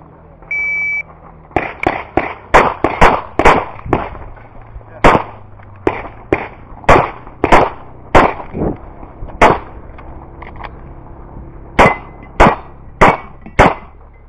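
A CZ 75 SP-01 Shadow pistol fires about two dozen loud, sharp shots at the Mediterranean Extreme Open 2019 shooting competition, production division. The shots come in rapid strings with brief pauses, and a start beep sounds first.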